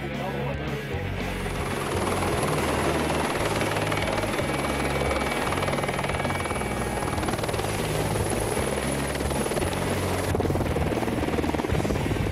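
Helicopter carrying teams up the mountain during a civil protection wildfire exercise, a loud steady rotor thump and engine drone running continuously close by throughout.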